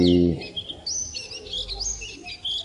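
Pleci white-eye birds in a hanging breeding cage give quick, thin chirps and tweets in a near, continuous chatter, with a short low hum at the start.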